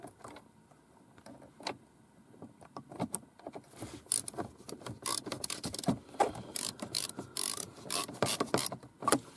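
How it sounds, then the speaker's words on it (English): Small screws are driven back into place inside the interior of a BMW E46 320cd, producing close, irregular clicks, ratcheting and rattling of tools and trim parts, quiet at first and busier later. "Get your screws. Screw them back in place."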